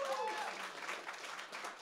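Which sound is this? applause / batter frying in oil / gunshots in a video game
applause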